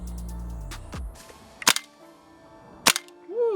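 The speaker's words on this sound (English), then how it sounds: "let's shoot this thing" A WE Tech AK74UN steel gas blowback airsoft rifle fires two sharp, snappy single shots about a second apart, loud and close, after a low hum cuts off, with faint clatter between the shots.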